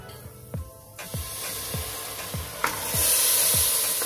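Marinated mutton is added to a pan with frying ginger garlic paste, producing a steady close sizzle and hiss that swells louder, with regular soft thumps of stirring and no voice.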